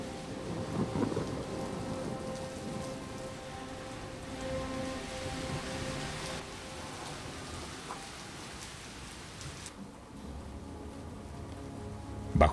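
Steady rain pours throughout while low thunder rolls and rumbles in the background, with no voices.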